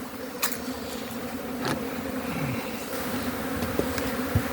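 Honeybees swarm around a hive at an apiary on a spring day, a dense, continuous buzzing that stays loud and steady throughout, with occasional individual bees droning close past.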